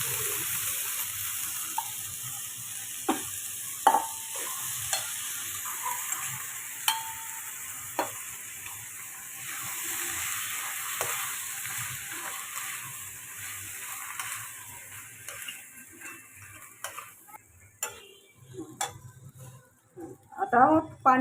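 Eight-hour-soaked whole masoor lentils are stirred into roasted masala in a pan for masoor biryani, with scattered clinks of spoon against pot and a soft sizzle, quiet and intermittent.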